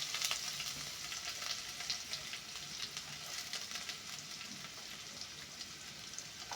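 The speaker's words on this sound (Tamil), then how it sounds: "இது போல் நம்ம செவந்ததும் சின்ன உள்ளி அரிஞ்சு வச்சதை அதில் ஆட் பண்ணுறோம்" Steady, dense sizzling of chopped shallots frying in hot oil, continuous and close, with a faint crackle throughout and no voices.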